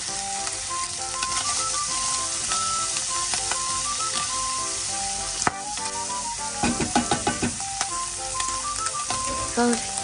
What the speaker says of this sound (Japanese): ウインナーでも美味しいよ。 で、炒めていきます。